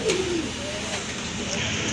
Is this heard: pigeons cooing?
yes